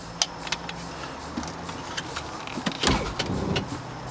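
Electric tilt motor on a boat trailer running: a steady whirring motor hum close by, with a few small clicks and clanks over it and a louder mechanical thump near the end, no talking.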